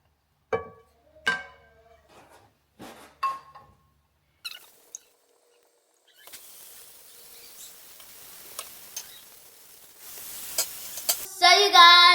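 Butter sizzles in a pan while cinnamon French toast is cooked, a soft hiss that builds through the second half after a few scattered clicks and knocks near the start. No one speaks.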